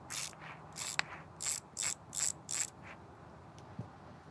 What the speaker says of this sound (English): there is a cassette sort of mechanism